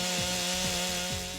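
A chainsaw engine idles and revs steadily close by, its worn chain clattering with a rough, repeating rasp that dips in pitch about three times over the short burst.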